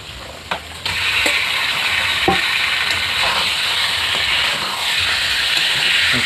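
Chicken pieces dropped into hot oil with spices in a pot, with a steady, close sizzling hiss and crackle that swells as they hit the pan and holds loud and even throughout.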